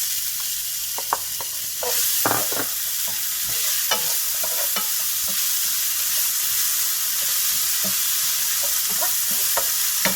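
Finely chopped onions sizzle in a pan for chicken potato tikki kebabs, a steady frying hiss under a scattering of stirring scrapes and taps, with no one speaking.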